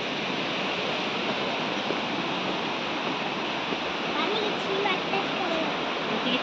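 The Furli Jharan waterfall in Kalahandi roars with a dense, constant rush of falling water, loud and unbroken throughout.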